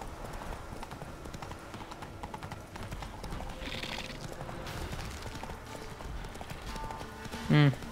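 In the Witcher 3 game, the horse Roach trots along a road, its hooves clip-clopping in a steady, quick rhythm at moderate volume over a soft ambient background, with a short bright sound near the end.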